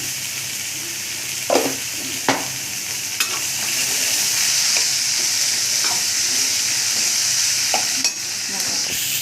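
Garlic and onion frying in a pan, stirred with a few sharp scrapes and clatters of the spoon over a steady close sizzle, with no talking.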